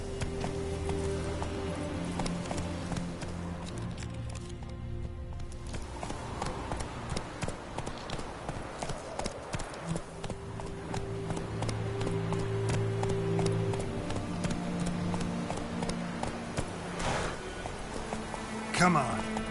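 The horse Roach gallops in The Witcher 3 with a fast, regular clip-clop of hooves running under game music, while a voice speaks over it.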